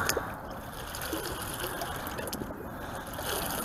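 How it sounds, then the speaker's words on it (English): Water trickles and splashes steadily as a junk can pulled up while magnet fishing is rinsed off on a dock, a continuous close liquid wash with no talking. "Let's rinse it out."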